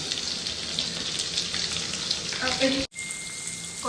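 Whole spices, green chillies and onion frying in hot oil for Telangana-style bagara rice, a steady dense crackling sizzle that runs evenly before cutting out abruptly near the end.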